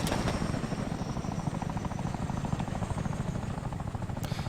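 Helicopter spinning out of control in the video game ARMA 3, a loud, steady rotor thrum and turbine whine filling the whole stretch, with no talk over it.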